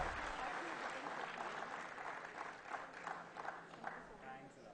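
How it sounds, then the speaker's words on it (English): Members at a tax seminar applaud as a memento is presented, moderate clapping from a gathered crowd that is soft and somewhat distant, fading in and out over a low room murmur. "A big applause, members"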